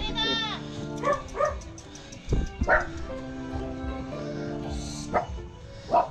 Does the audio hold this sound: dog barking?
yes